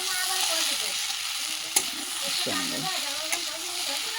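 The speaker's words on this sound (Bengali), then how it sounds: "এইবারে ডিমটা দিয়ে" Beaten egg fries into an omelette in a hot pan, giving a loud, steady, close sizzle broken by a couple of sharp clicks, with a faint voice briefly underneath.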